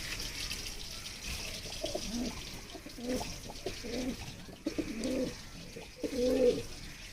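A pair of pigeons in a cage coo in a string of soft, low, throaty bursts, fairly close, over faint background bird chirps and a light watery hiss.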